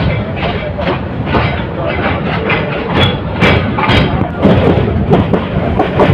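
The Bolaka Commuter train runs fast on rails on its way from Mymensingh to Dhaka, a loud continuous rumble with rhythmic clickety-clack and occasional heavy thumps throughout.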